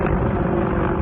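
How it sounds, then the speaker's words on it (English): A helicopter passes overhead outdoors, heard as a steady, loud low rumble filling the whole second without letup. "Got a helicopter"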